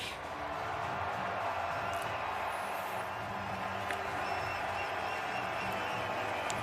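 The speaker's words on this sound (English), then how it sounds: "You could hear the Gino chants in the crowd, and it was great to see that ovation that he got coming to the center ice" A hockey arena crowd gives Gino Odjick a sustained, roaring ovation, a dense, even wall of cheering and applause with scattered whoops and possible chanting throughout.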